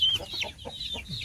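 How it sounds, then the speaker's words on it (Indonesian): A Pelung chicken clucks close by in a short series of soft, rhythmic clucks with a faint high chirp above. "Ini ayam pelung ini."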